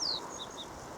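A black redstart in roadside vegetation gives a thin high descending call followed by two faint short chirps, distant and soft over a quiet outdoor background.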